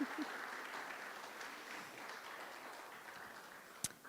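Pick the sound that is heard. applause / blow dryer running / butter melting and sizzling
applause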